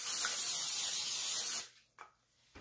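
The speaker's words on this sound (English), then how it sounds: "I'm going to spray my cookie sheet" Cooking spray hissing onto a cookie sheet in a single steady burst of about a second and a half, followed by quiet with a couple of faint clicks and handling sounds.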